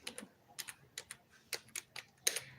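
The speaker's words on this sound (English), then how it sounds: "let me type this in here" Someone typing a search into a computer keyboard: a quick, uneven run of soft key clicks at close range, with a slightly louder tap near the end.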